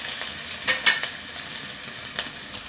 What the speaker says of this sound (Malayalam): നമുക്ക് എണ്ണയിലേക്ക് ആദ്യം ഇഞ്ചി ചെറുതായിട്ട് അരിഞ്ഞത് ചേർത്ത് കൊടുക്കാം